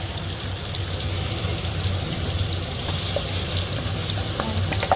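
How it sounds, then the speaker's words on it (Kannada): Tomato mixture for kaima sambar frying in oil as chili powder goes in, a steady close sizzle and crackle running continuously throughout, with faint stirring clinks and no talking. "ಈಗ ಖಾರ ಟೊಮೆಟೊನೆಲ್ಲ ಹಾಕೊಂಡಿದ್ವಲ್ಲ, ಈಗ ಖಾರ ಹಾಕೋಣ"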